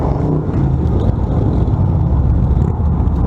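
Cars drive past on a road beside bikes stopped near the edge, making a loud, continuous rushing roar of tires and engines close by, with no voices.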